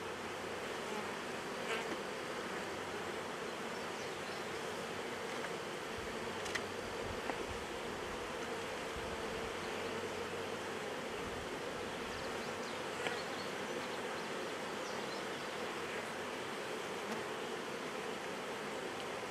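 Honeybees buzz around an open hive frame while drone comb and cross comb are pulled from a foundation-checkerboarded colony, a dense continuous hum that stays steady and close for the whole stretch.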